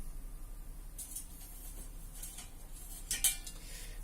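Sugar and half a lemon are stirred in a pot, giving quiet metallic scraping and clinks of a utensil against the pot, with one sharper clink near the end, faint over a low background hum.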